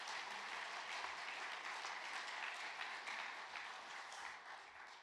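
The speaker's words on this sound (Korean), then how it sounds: "우리에게 은혜를 주신 황사영 목사님에게 다시 한번 뜨거운 박수 한번 하도록 하겠습니다." An audience claps warmly in a church after a pastor's sermon, steady full applause throughout that eases slightly toward the end, with no voices over it.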